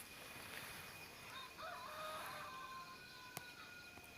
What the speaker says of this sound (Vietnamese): con gà này con này gáy rất hay